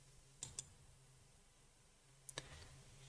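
Left button of a computer mouse clicked a few times, sharp and close in a quiet room, with two quick clicks followed by a single one.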